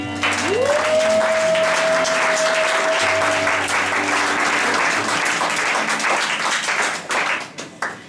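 Sustained applause and cheering from a church congregation, dense and loud throughout, with a long rising whistle-like tone near the start and sporadic claps trailing off at the end.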